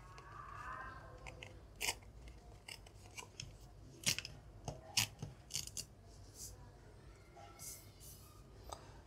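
Paper crinkles and tears as the side edges of a Google AdSense PIN mailer are ripped open, coming in quiet scattered bursts and snaps against a low hum, close by.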